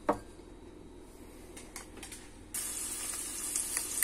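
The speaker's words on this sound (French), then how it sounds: "Et après, je mets les oignons. Je vais les faire dorer." Onions fry in oil with a soft, steady sizzle that swells louder and brighter midway, with light stirring clicks close by.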